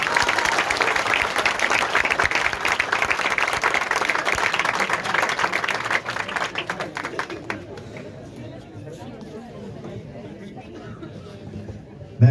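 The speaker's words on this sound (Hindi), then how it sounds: "एक बार जोरदार तालियां और बजा दीजिए।" Seminar audience bursts into loud, sustained applause at a close distance, the clapping thinning out and fading after about seven seconds into a quieter room with scattered murmurs.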